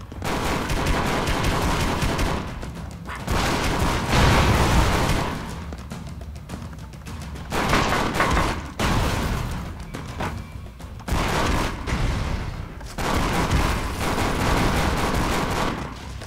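Rapid bursts of gunfire and booming missile-launcher blasts from the Expendabros video game, loud and continuous in several clusters with brief gaps, no talking over them.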